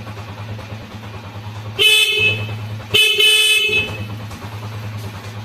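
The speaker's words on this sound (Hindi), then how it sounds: "पहले हॉर्न चेक कर लें आप" Two loud honks from a motorcycle horn, on a bike fitted with a turbo battery capacitor, each about a second long, sound over a steadily idling engine.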